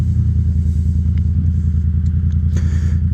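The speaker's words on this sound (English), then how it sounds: "it's one amazing sounding motorcycle" Yamaha FZ-07 motorcycle engine on the move with a gentle throttle, a loud steady low rumbling throb heard close up and continuous, with faint rattles above it.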